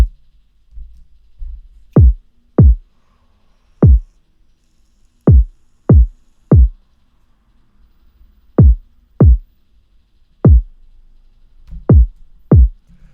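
Kick drums from a beat, with the sub tail cut short, repeat in a simple, sparse pattern of deep, punchy thumps. They often fall in close pairs with gaps between, loud and alone.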